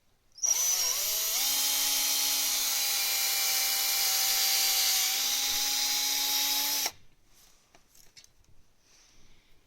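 A power drill bores into a knife blank, making a loud, steady whine that starts abruptly, holds for about six seconds and then cuts off, leaving faint clicks and handling noises.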